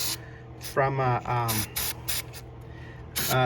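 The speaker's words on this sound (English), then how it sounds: "I'm just going to spray it a little bit on here" Aerosol battery terminal protector sprayed onto a car battery terminal in several short, sharp hissing bursts, with a voice talking between the sprays.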